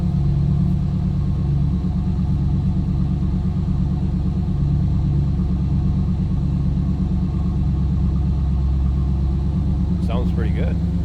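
A 1989 Pontiac Firebird Formula engine idling steadily and loudly, a smooth continuous rumble with no revving, up close and alone.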